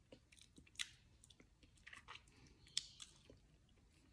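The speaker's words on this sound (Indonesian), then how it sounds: "Itu kan kebuka mulutnya lagi ngunyah, itu bisa bunyi, itu normal." Close, quiet mouth sounds of someone eating after drinking apple vinegar, with soft wet chewing and occasional sharper smacks and crunches in an irregular rhythm.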